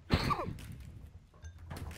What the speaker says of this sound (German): Gesundheit, hör auf zu niesen.